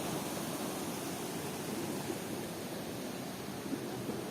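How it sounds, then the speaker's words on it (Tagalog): The strong current of Anton Falls gives a steady, even rush of water, heard at a fair distance as a broad, constant wash with no breaks. "Medyo malakas yung agos ngayon"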